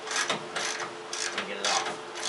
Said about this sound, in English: we'll pop this 1 bolt off over here